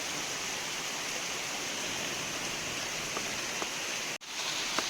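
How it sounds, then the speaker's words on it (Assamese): Steady, dense rain pours outdoors near a waterfall, a broad unbroken hiss of falling water that stays loud and constant, briefly dropping out for an instant near the end. "বৰষুণ দি আছে পুৰা"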